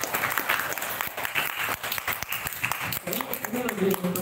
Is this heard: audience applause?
yes